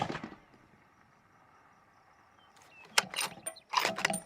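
A fairly light hunting rifle, its zero slightly off, fires a quick group of shots at a paper target outdoors: a few sharp, distant-sounding cracks close together after several seconds of near silence.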